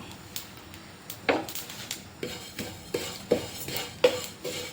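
Fennel seeds for garam masala dry-roast in a pan, with repeated scraping stirs and light clinks of a utensil against the metal in an irregular rhythm, close and moderately loud.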